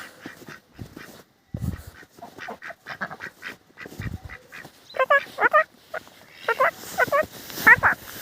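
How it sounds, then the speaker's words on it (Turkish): Several ducks quack in short bursts outdoors, the calls growing louder toward the end, with a person talking intermittently nearby. "Bunlar ördekler."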